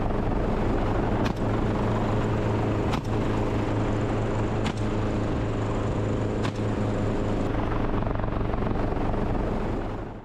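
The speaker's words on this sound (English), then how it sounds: "In Louisiana, helicopters roar" A helicopter flies over Louisiana on a wild boar hunt, its loud, steady rotor roar and engine drone filling the whole stretch with periodic sharp blade or wind thumps, fading slightly at the end.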